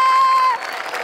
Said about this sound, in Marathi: सगळ्यात आधी आमिर हडकर यांच्यासाठी जोरदार टाळ्या